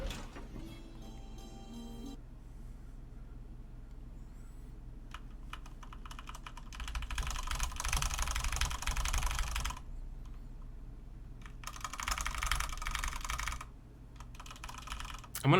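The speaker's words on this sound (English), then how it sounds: "I'm gonna break my keyboard doing that." Computer keyboard typed on during a Dishonored 2 game session: dense bursts of rapid clicking and clacking, close and loud, interrupted by brief pauses, with game sounds underneath.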